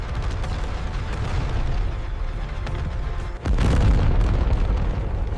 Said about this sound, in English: Black clouds of exploding flak surround the formation from every direction.